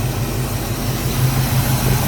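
A Chevrolet Caprice project car with a knocking motor idles steadily, a low, continuous engine rumble with a faint pulsing throb and no talking.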